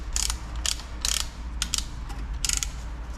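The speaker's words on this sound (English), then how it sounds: "So that will apply equal pressure onto the caliper and it just winds it all the way back." Brake caliper piston wind-back tool being wound on a Vauxhall Insignia: a quick series of close, sharp ratcheting clicks in short bursts, with no talk.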